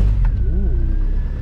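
A car engine idles after a fresh catalytic converter install, a low, steady rumble close by with a brief rise in revs partway through, and no talking.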